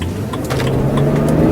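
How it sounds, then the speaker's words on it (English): A 2009 BMW 328i convertible engine accelerates toward high RPM, a loud, steady rising drone with the pitch climbing gradually and continuous road and engine noise throughout. "once you get up to the higher RPM range, it just kind of drags on a little bit"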